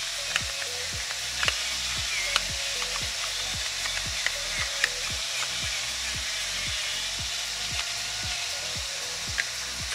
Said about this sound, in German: Ja, den schwitzen wir jetzt kurz mit an, ne?